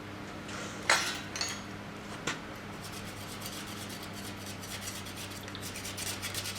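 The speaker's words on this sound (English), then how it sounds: "There's the slewing mechanism for the table. I'll just put a scraper on it." A metal scraper rasps across the slewing mechanism of a grinder table, giving a few sharp scrapes and clinks early on, then a steady faint rubbing over a low machine hum.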